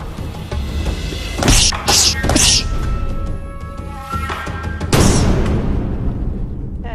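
A 5th-degree taekwondo black belt kicking a force-measuring pad: a cluster of loud, sharp thwacks in quick succession followed by another heavy impact, set against a background hum, no talk.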